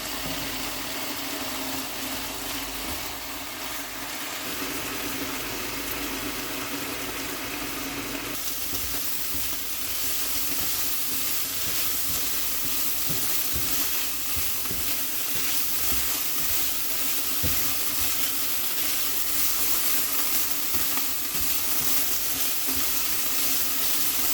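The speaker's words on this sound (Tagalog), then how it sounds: "4 to 5 minutes, fry natin yung ating chicken." Chicken frying in a pan, a steady continuous sizzle and crackle held at an even level with faint stirring noises, no voices.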